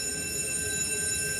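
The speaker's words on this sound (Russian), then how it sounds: "Понравилось кататься в метро. Но оно очень шумное, не такое, как метро в Европе." A noisy Buenos Aires metro train ride: inside the car, a sustained high-pitched electric whine with several steady tones sits over a constant rumbling roar, loud and unbroken.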